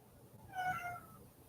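A cat gives a single short meow indoors, faint and brief against a quiet room background.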